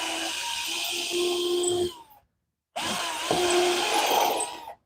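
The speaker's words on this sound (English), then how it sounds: "I think I want to screw that one first to bind that corner" A power drill drives screws into wooden boards that are out of square, two loud whirring bursts with rising motor pitch, separated by a short silent pause, close up and free of speech.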